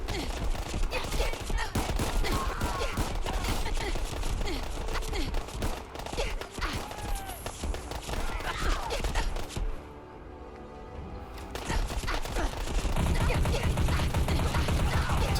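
Rapid gunfire in the Fallout 4 video game, dense overlapping bursts and volleys of shots across most of the stretch, briefly thinning before resuming with a heavier rumble.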